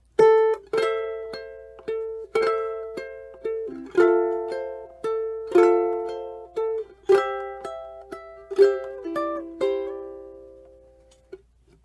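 A plucked ukulele plays a slow fingerpicked melody, notes ringing and decaying cleanly, close and clear with no talking, ending on a sustained note.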